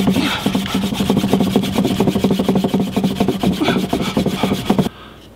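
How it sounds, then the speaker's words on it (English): Wood rubbing hard against wood in a friction fire attempt, a steady fast rasping back-and-forth sawing stroke repeated dozens of times at close range, loud and continuous before stopping abruptly near the end. "I can char it and do a lot of sawing, but I'm not getting a good ember."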